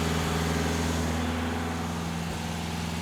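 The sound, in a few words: 1964 Triumph TR4 engine idling while warming up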